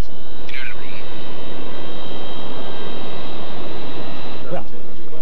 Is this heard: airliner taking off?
yes